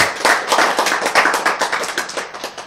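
An audience claps in a lecture hall, a short burst of quick, fairly loud applause that fades slightly toward the end, with no talking over it.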